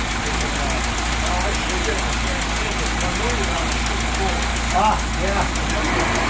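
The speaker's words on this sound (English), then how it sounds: "Let's see if I can just fire it right back." A 1925 Ford Model T engine running after years of sitting, idling steadily with a rough, knocking rumble close by throughout, while a voice briefly speaks over it.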